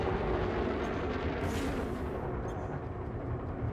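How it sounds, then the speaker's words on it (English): Continuous heavy gunfire and rumbling blasts in a video game fight, a dense, fairly quiet wall of booming shots with no clear pauses. "I'm trying to shoot you"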